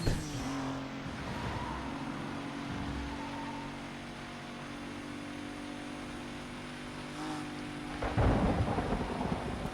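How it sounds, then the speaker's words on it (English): In Need for Speed: Most Wanted (2005, PS2), rain pours steadily while thunder rumbles and swells, and a loud crack near the end comes over a faint car engine. "the rain has arrived"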